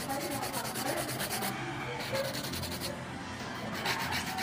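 A nail file rasps back and forth across acrylic powder nails in quick, even strokes, close and fairly quiet with a soft gritty texture.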